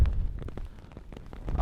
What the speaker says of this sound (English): I'd rather it wasn't raining at all, because now I'm getting very cold.